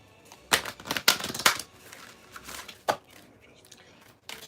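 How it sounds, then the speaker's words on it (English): An oracle card deck is shuffled by hand, giving several sharp, papery riffles and slaps in quick clusters with short pauses between them, close and fairly loud in a quiet room. "Shuffle here."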